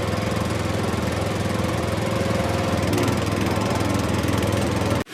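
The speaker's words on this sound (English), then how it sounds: "The truck loaded with potatoes is heading to the processing factory." A delivery truck loaded with potatoes heads to a processing factory, its engine a steady, rumbling drone heard up close that runs continuously and then cuts off abruptly at the end.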